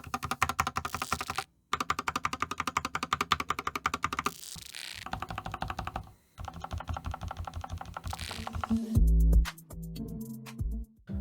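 Rapid mechanical keystrokes on a modded budget GK96s keyboard with reworked stabilisers, steady close-up typing in bursts with brief pauses, ending in a few heavier clacks.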